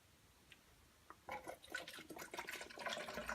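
Smoke machine fluid spilling and pouring from a squeezed bottle, faint liquid splashing and gurgling that begins after a couple of soft drips and continues in uneven, bubbly spurts.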